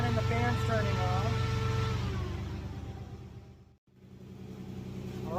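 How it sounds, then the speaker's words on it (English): Air-conditioning compressor and cooling fan on a 1954 GMC cab-over truck running as a steady mid-pitched mechanical hum with tonal whine, loud and close, dipping briefly near the end before resuming. "The compressor is turning on and the fan's turning on."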